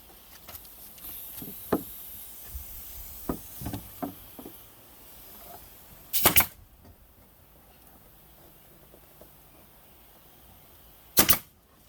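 A staple gun shoots staples into a brooder box, giving two loud, sharp snaps several seconds apart after a run of lighter clicks and handling noises, with no talking.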